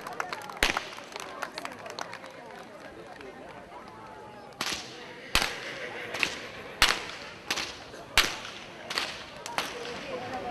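Whip crackers at a harvest festival snap their whips in loud, close cracks, scattered early and then a steady rhythmic run of about eight, over crowd noise and background voices.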